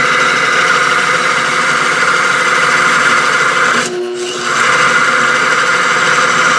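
A car engine fitted with an Adwest power steering box runs at a steady, loud idle, humming evenly with only a brief dip partway through.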